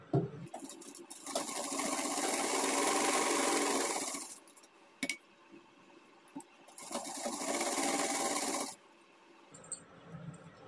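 Sewing machine stitching along the edges of a fabric blouse: two loud, sustained runs of whirring, each several seconds long, separated by a quiet pause with faint clicks and handling sounds.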